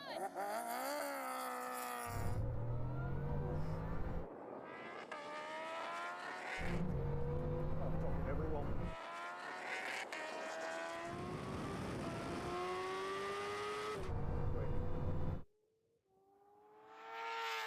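A Bugatti Chiron Super Sport 300+ and a Koenigsegg Jesko accelerate hard in a drag race, engines rising in pitch through repeated gear changes with abrupt cuts between shifts, loud and close, ending in a sudden drop.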